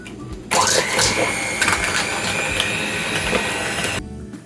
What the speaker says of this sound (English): Now you can do this in a mixer, or you can do this with a hand mixer.